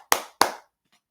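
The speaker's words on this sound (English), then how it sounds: "Clap it up for John for being a good friend." Two sharp, close hand claps spaced about a third of a second apart, crisp and isolated against silence, followed by a faint trailing sound.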